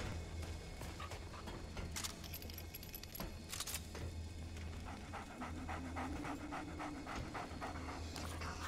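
An injured dog pants in the video game Remnant: From the Ashes, quick rhythmic breaths over a steady low hum, with jangling, clinking game effects mixed in throughout; no talking.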